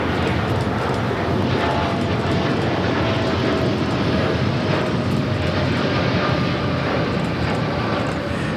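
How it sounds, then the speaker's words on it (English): An American Airlines Boeing 787-8 Dreamliner takes off at Los Angeles airport, a loud, continuous broadband engine roar that holds steady throughout with no pauses and no talk over it. "2398 taking off to Dallas Fort Worth on a 787-8 Dreamliner."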